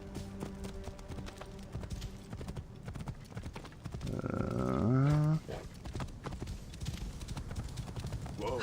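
Horse hooves clip-clop in a steady rhythm throughout gameplay in Assassin's Creed Origins, with a horse whinny rising midway, mixed with game ambience and occasional taps.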